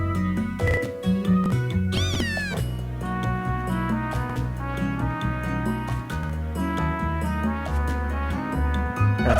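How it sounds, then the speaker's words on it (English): Litten, the fire-cat Pokémon in Pokemon Moon, gives a synthesized meow, a rising and falling cry heard once over continuous game music that plays throughout. "Let me show you my Litten. It goes meow!"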